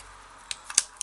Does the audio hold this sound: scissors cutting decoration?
yes